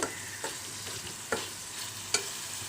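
Sliced onions and spices fry in a pan, a continuous sizzle with a few sharp scrapes and knocks as a spoon stirs them, heard up close with no voices.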